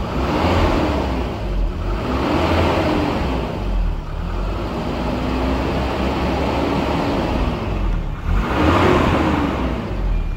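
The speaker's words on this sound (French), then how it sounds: "Je vais essayer de vous l'accélérer un peu." A Volvo 740 Turbo with a B230FT engine and a large viscous fan coupling revs steadily and loudly nearby, a sustained throaty drone with a whooshing fan roar that rises and dips slightly across the stretch.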